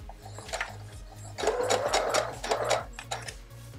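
A sewing machine stitches fabric while back-stitching a seam: a close, steady, rapid mechanical chatter of the needle, speeding up partway through, with no talk.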